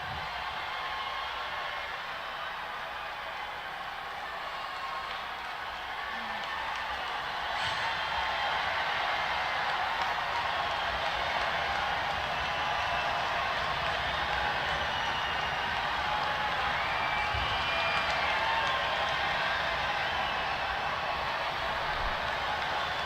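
A large political rally crowd in Iowa cheers and applauds steadily, a dense continuous roar of clapping and voices that stays loud and even throughout, heard from a distance.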